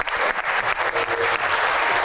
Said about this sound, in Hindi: सबसे पहले आपके लिए तालियां।